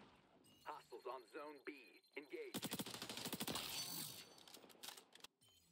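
Rapid automatic M4A1 fire in the video game XDefiant, a dense continuous burst of close, loud shots lasting a couple of seconds, preceded by someone talking and mechanical clicks.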